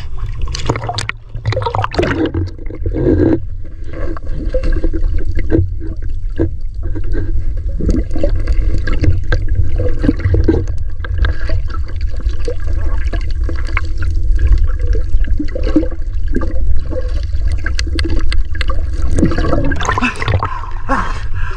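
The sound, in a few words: choppy sea water waves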